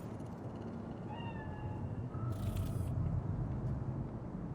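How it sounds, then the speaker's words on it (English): A cat in Cyberpunk 2077 gives a couple of short, faint meows over low city ambience, followed by a brief hissing burst. "Fine-looking feline."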